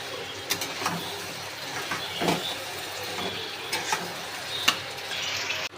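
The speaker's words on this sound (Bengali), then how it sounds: "আমি একটু ভালো করে কষে নেব।" Spiced gravy sautéing in a pan, a steady low sizzle with intermittent scraping stirs and a few utensil taps against the pan.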